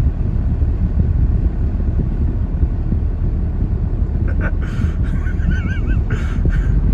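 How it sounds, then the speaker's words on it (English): Geese on a road give a few honks and quacking calls late in the sequence, heard over a steady loud low rumble of traffic or wind. "This person is trying to help these geese cross the road."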